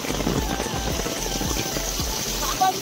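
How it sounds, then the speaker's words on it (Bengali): Heavy rain pours down outside Arwah Cave at Sohra, Meghalaya, a dense, steady wash of drops drumming on nearby surfaces, with a voice faintly present beneath the downpour. "বাবার হালত পুরো বৃষ্টি বৃষ্টি বৃষ্টি বাইরে।"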